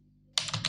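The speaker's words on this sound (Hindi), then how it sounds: "उसके बाद एक बार कुछ टाइप कर देंगे, उसके बाद एंटर, उसके बाद टाइप, एंटर," Computer keyboard typing starts abruptly after a short quiet moment, a quick close run of clicking keystrokes.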